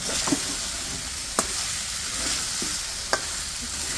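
Ridge gourd being stirred and sautéed with salt in a hot pan makes a continuous sizzle, with a few sharp clicks of the spatula against the pan.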